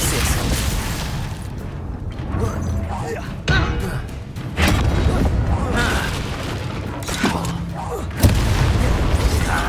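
Hogwarts Legacy's Glacius ice spell bursts out amid a chaotic battle, with booming blasts, thuds and crackling impacts that keep crashing in over sustained loud combat noise.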